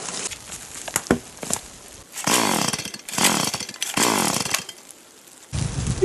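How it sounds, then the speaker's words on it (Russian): A heavy chainsaw is pulled and started in a forest work setting, giving several sharp pull-cord rasps followed by bursts of the engine catching and revving loudly, then dying back between attempts. "Бензопила сниматься не хочет."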